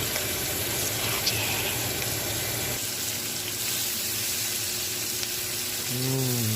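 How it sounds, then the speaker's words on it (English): Shrimp and chopped vegetables, including caramelized onions, sizzle steadily in a hot frying pan, a dense close crackle that runs throughout, with a brief tonal clatter near the end. "we're going to add all of our veggies and all of our shrimp back to the pan."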